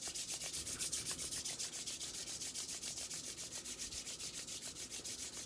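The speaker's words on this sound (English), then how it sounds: "First we're going to give them a good rub." Palms of the hands being rubbed briskly together in a steady, even back-and-forth rhythm, soft and close with no talking.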